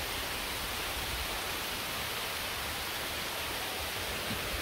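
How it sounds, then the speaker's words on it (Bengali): Heavy rain pours steadily over a village, a dense, unbroken hiss that stays loud and even throughout with no voices. "বৃষ্টি দেখেন যে শুশানের শব্দ শুনছেন"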